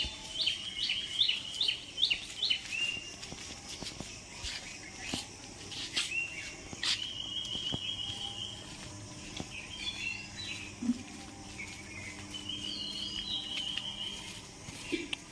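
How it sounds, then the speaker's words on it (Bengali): Birds chirping beside a quiet, empty road, with repeated bright tweets and short trills from several birds at moderate distance over a soft background of insects. "চারিদিকে পাখির আওয়াজ খুব মিষ্টি"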